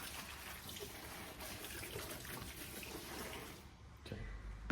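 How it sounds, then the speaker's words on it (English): Simple Green cleaner being poured into water, heard as a steady, faint liquid trickle that runs throughout, with no talking. "how about I just pour some in and then I'll pour in a bunch of water"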